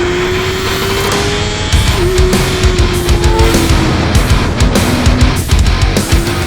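A 2024 Kawasaki Ninja ZX-6R with a new camshaft and revised intake and exhaust revs loudly and climbs through gears, the engine note rising and dropping repeatedly up close.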